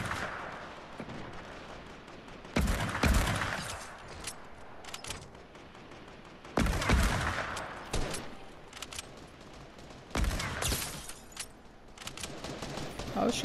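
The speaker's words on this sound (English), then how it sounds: "we're shooting them over there" Gunfire in a Fortnite match in Pirates of Fortilla mode, with repeated bursts of shots and loud reports scattered over the stretch, a few heavier volleys standing out.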